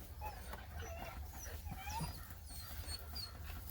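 Several puppies whimper and yip in thin, high, overlapping cries, fairly faint, over a steady low background hum outdoors.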